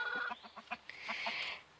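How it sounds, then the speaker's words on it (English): Hens and roosters squawk and cluck in an agitated burst, a run of short sharp calls followed by a longer strident squawk, close and fairly loud, no talking. "once in a while the hens go a little cranky on these roosters, and they make a lot of noise"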